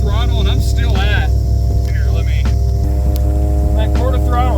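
A car engine fitted with an old smog pump used as a crankcase vacuum pump runs steadily at about quarter throttle and 2,000 RPM, a close, continuous low hum while someone talks over it.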